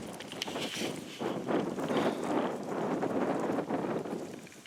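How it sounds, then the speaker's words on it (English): Steady wind buffets an open barrens landscape outdoors, a continuous broadband rush with gusty swells and rough microphone buffeting that rises and falls throughout. "It's a little windy here, so it's going to throw off my shot"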